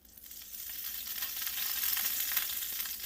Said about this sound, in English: That's sizzling.